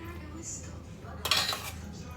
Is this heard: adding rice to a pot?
yes